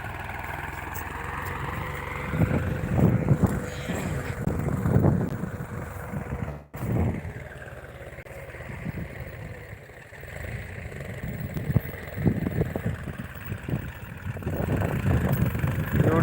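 A low New Holland tractor engine rumbles steadily outdoors in a soybean field during weeding, with wind buffeting the microphone, the drone rising and falling, with a brief dropout midway.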